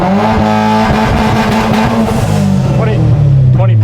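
A Mitsubishi Evo X with an 800 wheel-horsepower, 150,000-mile Ralliart motor revving hard at launch, a loud close engine drone climbing in pitch, with people talking over it.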